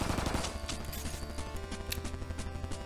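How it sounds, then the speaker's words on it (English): Rapid automatic pistol fire in the video game GUNGUNGUN, a dense clattering burst of shots running throughout, loud and close with a quick repeating rhythm. "I don't think this pistol should be automatic."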